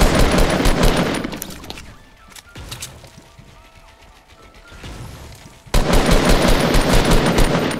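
Bursts of automatic gunfire from the video game Fortnite, loud and rapid at the start, fading to faint scattered shots, then a sudden dense volley at the end.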